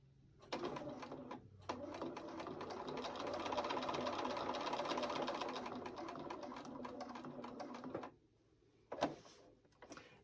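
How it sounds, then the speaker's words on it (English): A sewing machine stitches in the ditch while quilting a small fabric mug rug, running in a fast, steady close whir for several seconds, stopping, then giving a brief final burst. "I'm going to go ahead and quilt this real quickly, just stitch in the ditch"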